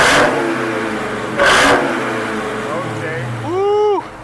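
A car engine with a loud stock exhaust in track mode revs hard and close, rising in two sharp bursts over a steady rumble, while people talk alongside.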